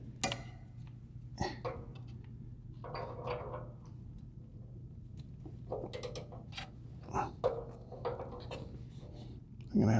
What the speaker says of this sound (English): we're just going to go with the socket directly on.